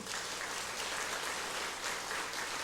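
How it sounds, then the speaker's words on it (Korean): Two church elders clap vigorously during a church service, a steady, dense patter of hands that sounds fairly soft and distant throughout. "저 2분 장로님 박수 불같이 쳐요"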